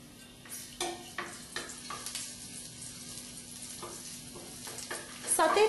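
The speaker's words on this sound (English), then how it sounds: "Saute till the garlic changes its color" Chopped garlic sautés in about a teaspoon of oil in a pan for garlic shrimp, a quiet sizzle punctuated by repeated spatula scrapes and taps, close and soft, ending in a louder burst.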